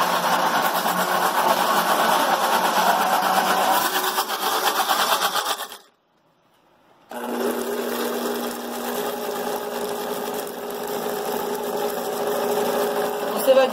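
Electric mixer beating a cake filling, a steady close whirring motor that cuts out for about a second and then resumes at a slightly different pitch, running alone without talk.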